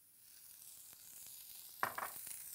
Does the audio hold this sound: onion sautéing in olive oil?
yes